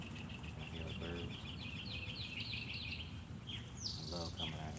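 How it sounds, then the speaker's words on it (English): A bird repeatedly chirps outdoors at a suburban homestead, short bright call bursts in quick series over a steady bed of insect and cricket buzz, moderately distant. "I hear a bird."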